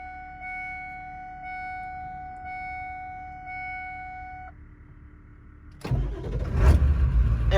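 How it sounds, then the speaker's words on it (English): A 7.3 diesel truck that has trouble starting fires up after a stretch of steady tonal whine with a low rumble, then catches into a loud, rough, clattering run near the end. "We're gonna see if we can get old girl to warm up a bit and start her."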